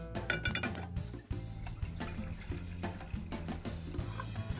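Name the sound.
pot filling with water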